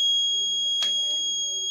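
A gas or smoke detector alarm in an industrial IoT monitoring setup sounds a steady, high-pitched electronic tone throughout, with a brief sharp click partway through.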